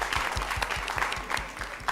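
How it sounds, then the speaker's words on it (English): Audience clapping at a newsroom contest grand finale, a crowd applauding a woman with an even patter of hands and a low rhythmic thump underneath, close and continuous. "May we clap for this"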